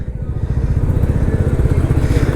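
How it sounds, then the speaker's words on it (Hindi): Motorcycle engine ridden along the road toward Haridwar during the Kawad Mela pilgrimage, with a close, loud, rapid low thumping exhaust pulse that stays steady throughout. "हमने भी बाइक से एक परिक्रमा कर ही ली है, निकलते हैं अपने हरिद्वार की तरफ"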